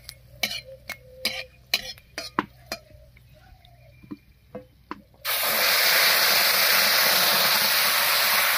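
Ground spice paste goes into a pan of hot oil already frying whole garam masala, bay leaf and cumin for a jackfruit seed dish. Scattered metallic clinks of a utensil are followed by an abrupt, loud, continuous sizzle that fills the rest of the clip.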